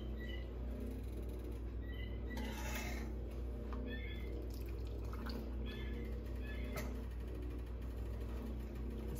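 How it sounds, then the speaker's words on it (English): Brine is poured into a glass jar packed with pineapple and candied jalapeños, a soft, close trickle with faint drips, quiet and steady. "Then you want to put your brine on."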